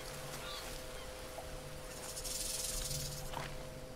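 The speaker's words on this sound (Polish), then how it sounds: "I wąż!" A snake hisses in the jungle survival game Green Hell, a loud breathy hiss swelling over steady insect and jungle ambience.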